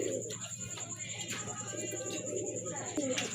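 Fancy pigeons cooing at a market stall, soft low coos layered under a continuous background hum, with faint voices and chirps mixed in.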